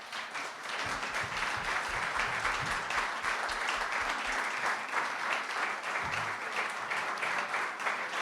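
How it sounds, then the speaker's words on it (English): Audience at a Hamilton City School Board candidates forum giving the candidates a sustained round of applause, a dense, even wash of clapping that fills the room and holds steady from start to finish. "A big round of applause for our candidates"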